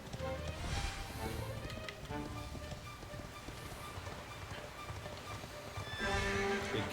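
A horse galloping and leaping in the Dragon Quest XI video game, with rapid hoofbeats and a whinny over game music and ambience, the sound swelling loudest near the end.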